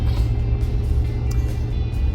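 Steady low rumble of an SUV interior while driving, a loud continuous engine and road drone with no voices.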